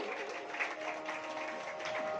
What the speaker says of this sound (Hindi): एक बार जोरदार ताली बजाकर महाराज श्री का स्वागत करेंगे